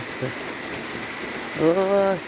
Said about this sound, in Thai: ฝนตกอยู่ครับ